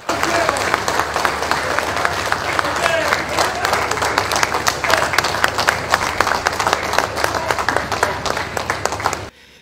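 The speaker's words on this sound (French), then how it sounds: "Lors de son entrée, le garant de la nation a eu droit à une standing ovation." Standing ovation for a head of state entering a hall: dense, sustained applause from a large crowd, steady and loud for the whole stretch with voices mixed in, then cutting off abruptly at the end.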